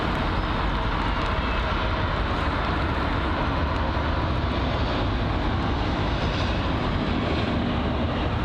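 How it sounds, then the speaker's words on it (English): A jet airliner arriving on approach at London Heathrow, a steady broad engine roar holding loud and close throughout with no talk. "Right, we've got an arrival inbound."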